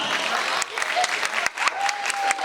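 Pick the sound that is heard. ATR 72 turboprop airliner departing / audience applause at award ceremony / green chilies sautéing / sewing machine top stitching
audience applause at award ceremony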